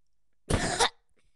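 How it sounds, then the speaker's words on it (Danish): One forceful, close cough, short and throaty, bursts out of near silence during a playful coughing competition. "i stedet for har vi en hostekonkurrence"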